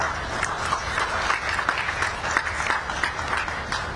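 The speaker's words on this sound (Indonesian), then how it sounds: "Tepuk tangan buat mereka." A crowd applauds the world champion Argentina team in Indonesia, dense clapping spread evenly throughout without a break, moderately loud and fairly distant.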